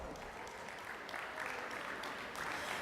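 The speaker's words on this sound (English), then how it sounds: "Can we please give them a big round of applause?" At a school sports banquet, an audience gives a round of applause for the girls' cross country team, a steady wash of clapping that is faint and distant throughout.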